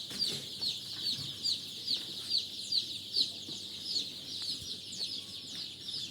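Healthy young Andijan black chicks in an indoor rearing room keep up a steady string of high, rhythmic peeps about twice a second, close and moderately loud, with no voices.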